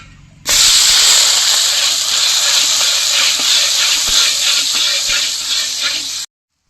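Chopped onions drop into hot oil with dried red chillies and spices, cooking outdoors in a field, and burst into a loud, continuous close hiss that holds steady for several seconds before cutting off abruptly.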